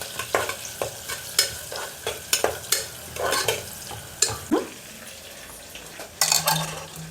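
Onions and green chillies frying in a pan for hotel-style kuska rice, with loud close spatula scrapes and clinks over a continuous sizzle, and a brief hiss burst near the end.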